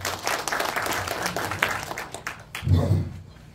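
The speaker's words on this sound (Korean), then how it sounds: "큰 박수를 보내주시기 바랍니다" Audience clapping at a Pocheon city council policy debate on municipal waste-collection administration, a steady patter of mid-level applause that fades as a low voice and room noise take over near the end.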